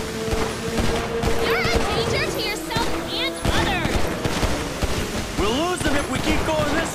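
Bursts of gunfire in the video game GTA 5 rattle through a dense, loud mix of game action, with excited voices talking over the shooting.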